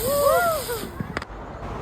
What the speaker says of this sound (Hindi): फिर हमने साथ में हेलीकॉप्टर वाला पटाखा चलाया और ये कुछ इस तरीके से आवाज़ करता है।